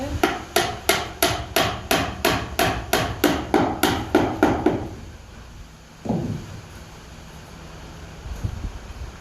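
A hammer drives a piece into an insect hotel in a rapid run of about fifteen sharp, ringing blows close to the microphone, then stops, leaving a single knock and faint handling noise against light wind.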